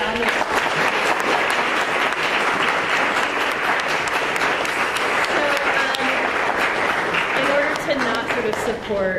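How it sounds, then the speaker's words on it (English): An audience gives a sustained round of applause after a lecture on farmers markets and food justice, dense steady clapping filling the room for several seconds with a voice speaking over it near the end. "So let's give another round of applause."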